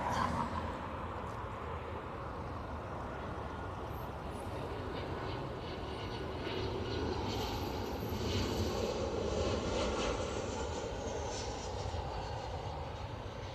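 Ryanair airliner landing at Dublin Airport, a continuous broad jet roar at moderate distance that holds steady across the span, faint and without voices.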